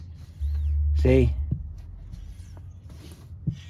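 Air suspension line on a 2007 Cadillac DTS, reconnected to the air compressor: a couple of short, sharp mechanical clicks spaced apart, with a brief spoken word and a low hum beneath.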